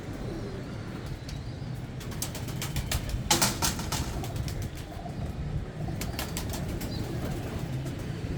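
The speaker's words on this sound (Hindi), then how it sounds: "ये है जी चौधरी शहजाद साहब से जो हम कबूतर लाए थे," Pigeons coo softly in a steady outdoor murmur, with a few brief bursts of wing flapping partway through and no voices.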